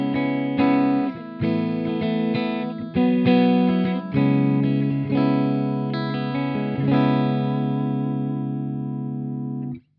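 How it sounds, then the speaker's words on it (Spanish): A clean-toned electric guitar through a Synergy SYN-30 amplifier's clean channel plays a series of strummed chords, each ringing out, the last one sustaining and fading to silence. "lo increíble que suena el canal limpio de este amplificador"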